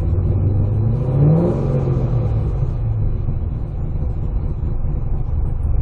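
Engine fitted with Holley EFI idle control: a loud, steady, rumbling drone with a brief rise in pitch early on, then a slow, even settle back toward idle, heard close with no talking.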